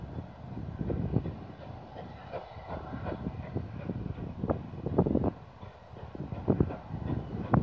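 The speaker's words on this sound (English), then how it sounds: "got to see a steam train." A steam train on the Epping to Chipping Ongar line in Essex rumbles past close by with rhythmic chuffs and clanking wheels, wind buffeting the microphone throughout.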